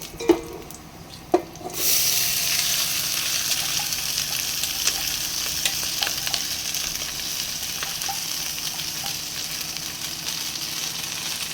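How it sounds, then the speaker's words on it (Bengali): Soaked basmati rice hits a hot pan after two short knocks, then fries with a steady, close sizzle while being stirred, a few light scrapes poking through; no one talks. "চালটা একটুখানি ভেজে নেব"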